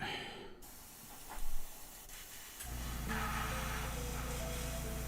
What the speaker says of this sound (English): Come on, Airbrush, you can do it.